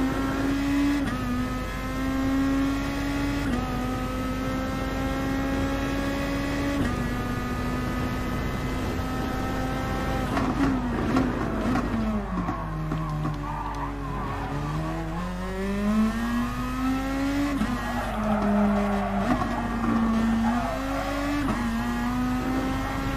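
Race car engine on a hot lap of the Nürburgring GP circuit in Gran Turismo Sport, a steady loud drone rising and falling through gear shifts, dipping and climbing through corners with faint tire squeal, no talking.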